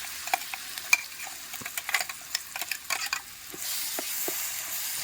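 Onion paste hits a hot pan for a fish pulusu curry, hissing steadily while a spoon scrapes and clacks in quick irregular strokes; the sizzle swells into a steady hiss near the end, close and fairly loud with no talking.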